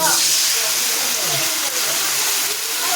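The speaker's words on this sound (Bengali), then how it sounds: "দিয়ে দিচ্ছি জিরা আর পাকা কাঁচা লঙ্কা বাটা," Cumin and ripe green chilli paste sizzle in a pan over a high gas flame, making a loud, continuous, close hiss that stays steady throughout.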